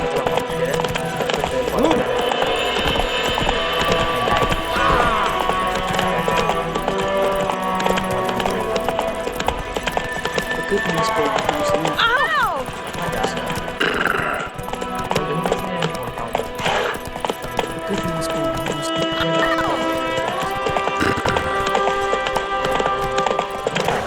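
Roach, the horse in the video game Witcher 3, gallops with rhythmic hoof clip-clops running under a busy game soundtrack, with other effects and a voice heard briefly over the hoofbeats.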